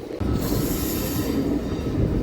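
A MEMU local train runs on rails between Kazipet and Secunderabad, a steady loud rumble of wheels heard from inside with a high squeal above it and no talk.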